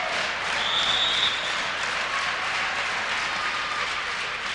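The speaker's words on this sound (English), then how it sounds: "And the crowd trying to help IPFW right now." Crowd at a men's college volleyball tournament match cheering and clapping in a dense, steady roar that fills the arena, loud throughout without clear breaks.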